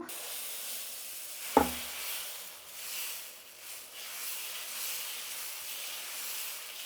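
Millet dosa batter on a hot pan gives a faint, steady sizzle and hiss, with one sharp clatter near the start, then a soft, continuous frying sound.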